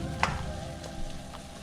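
Tomatoes cooking down in a frying pan for bean katogo, with a soft continuous sizzle and a few faint pops and stirring taps, close but low in level.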